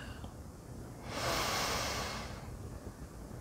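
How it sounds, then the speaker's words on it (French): A single slow, deep inhalation during a relaxation breathing exercise, a soft airy rush that swells and fades over about a second and a half against a quiet background. "j'inspire"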